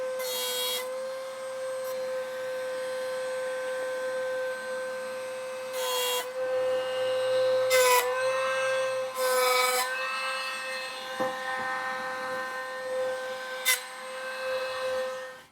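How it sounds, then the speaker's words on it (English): Power tool cutting wood blanks for finger-jointed recipe boxes in a workshop: a steady whining tone runs throughout, with several brief louder bursts where the blade bites into the wood. "So I'm going to cut a couple of these blanks and see how it works."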